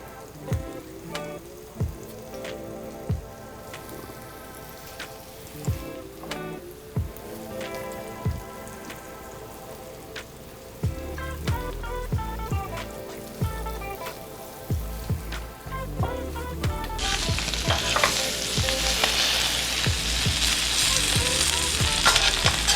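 Floured chunks of pulled pork drop into hot oil and fry. A series of sharp clicks and knocks comes first, then a bubbling sizzle that swells loudly over the last few seconds. No voices are present.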